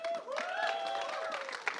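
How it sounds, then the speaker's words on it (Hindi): An audience applauds at the Jatt and Juliet 3 film trailer launch, a sustained round of clapping and crowd noise under a presenter's amplified voice. "बहुत सारी तालियां"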